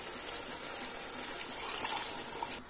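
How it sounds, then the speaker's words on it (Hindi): Water poured steadily into a pot of chicken biryani with potatoes and rice, a continuous close splashing gush for nearly three seconds before stopping. "अब हम इसमें पानी डालेंगे"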